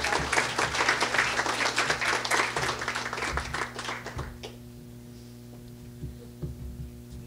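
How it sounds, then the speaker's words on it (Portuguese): An audience applauds at an engineering project-management seminar prize draw: several seconds of lively, dense clapping over a steady electrical hum, fading out to near quiet with a few stray claps. "a salva de palmas"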